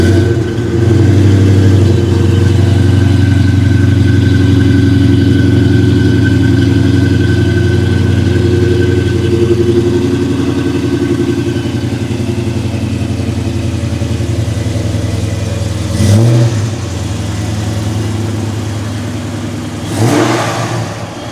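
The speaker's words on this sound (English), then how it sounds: "You ready to start it up?" A procharged 2010 Dodge Challenger R/T Hemi V8 rumbles loudly and steadily at close range, with two brief throttle blips swelling the deep engine note near the end.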